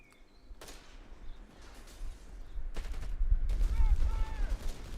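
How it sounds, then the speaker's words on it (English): Heavy machine gun fire in Company of Heroes 3 crackles in bursts of rapid shots that grow denser and louder toward the end, mixed with distant battle noise and occasional whistling tones. "Wanting that map control over the fighting power of those heavy machine guns."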